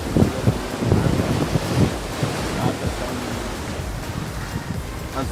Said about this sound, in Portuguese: Olha as ondas bem tranquilas.